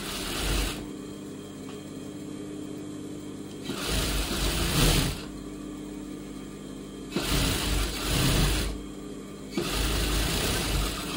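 A sewing machine runs in three or four bursts of stitching while attaching a blouse neck piece, a steady mechanical whir starting and stopping with quieter pauses in between.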